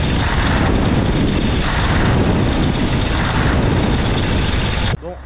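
Loud, close Scania Torpedo V8 truck engine running steadily with a small exhaust leak, its rumble carrying faint rhythmic pulsing for several seconds before cutting off sharply near the end.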